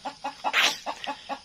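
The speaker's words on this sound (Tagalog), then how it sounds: "Ayun, yung mga manok." Farm chickens cluck in a quick, evenly spaced series of short calls close by, with one louder squawk in the middle and no voices.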